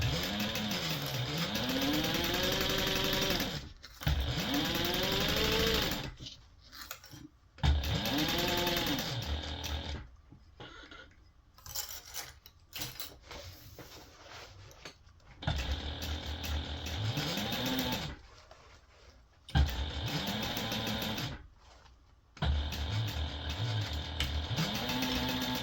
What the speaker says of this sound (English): I'm just sewing this at a 1/4 inch seam allowance